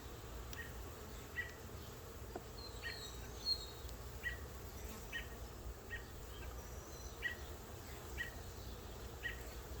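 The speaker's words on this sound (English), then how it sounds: "There's quite a few bees in here." Honey bees buzzing inside an opened hive, a low steady drone with individual insects zipping past close by, faint and continuous with no talk.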